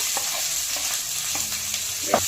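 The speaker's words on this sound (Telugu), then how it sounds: "ఇప్పుడు ఉల్లిపాయలు బంగారు రంగులోకి వచ్చే వరకు బాగా వేయించుకోవాలి." Two medium onions and four green chillies fry in hot oil for a Chettinad chicken curry, giving a steady close sizzle with a few soft stirring scrapes and no voices.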